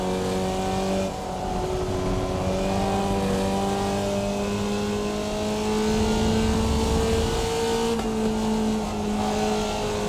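A Formula Vee race car engine in the iRacing sim drones loudly and continuously, its pitch dipping and rising as the throttle is blipped during downshifts, with no talking over it.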